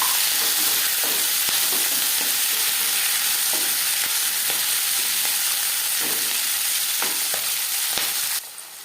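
Crushed cauliflower stalks fry in hot oil with cumin seeds and dried red chillies, giving a continuous bright sizzle with repeated scraping stirs throughout, close and fairly loud, and a sudden flare of hiss near the end.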